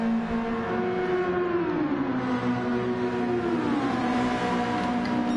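A formula race car accelerates hard at Monza, short shifting early. A continuous high, tonal engine whine climbs and dips with each gear change, loud and steady with no talking.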